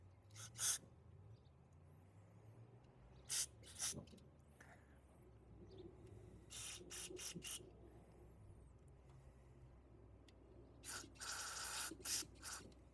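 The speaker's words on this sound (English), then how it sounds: "I did a little spray with carb cleaner" Short hissing bursts of carb cleaner sprayed into a lawn mower carburetor, several quick blasts spaced out over a quiet workshop background.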